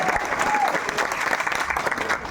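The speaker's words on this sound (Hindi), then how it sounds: "एक बार जोरदार तालियां" An audience at a Modi Care event in a Haldwani hotel applauds: dense, continuous clapping at an even level through the whole stretch, with faint talk underneath.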